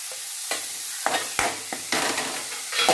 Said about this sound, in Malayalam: എണ്ണ ചൂടായുമ്പോൾ കറിവേപ്പില ഇട്ട് കൊടുക്കാം. നമുക്ക് സവാള ഇട്ട് കൊടുക്കാം. നമുക്ക് ക്യാരറ്റും പച്ചമുളകും ഇട്ട് കൊടുക്കാം.